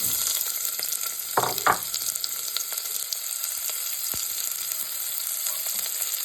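Onion for a quick chicken biryani frying in a pan, a steady bright sizzle throughout, with a couple of stirring scrapes near the start and occasional soft pops, close up and without talking.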